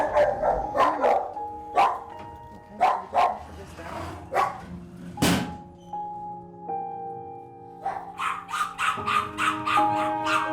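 Aggressive dogs in isolation kennels at Battersea bark in repeated sharp bursts, some close and loud, echoing off hard walls, with a voice heard among them.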